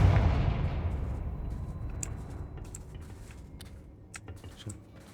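A Confringo blasting spell in Hogwarts Legacy bursts with a loud booming explosion at the start, its rumble decaying over several seconds while small crackling pops and ticks scatter through the tail.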